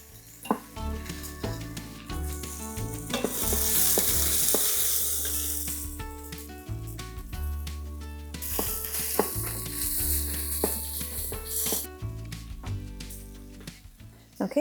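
Vegetables sauté in an Instant Pot with a steady, loud sizzle, broken by repeated scraping and clacking as a utensil stirs them against the pot.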